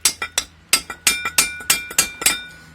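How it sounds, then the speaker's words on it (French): A chisel is struck with a hammer on the rear brake assembly of a Golf 3 TDI, giving about a dozen sharp, ringing metallic blows in an uneven rhythm, close and loud with no talk. "Alors là, j'utilise un burin."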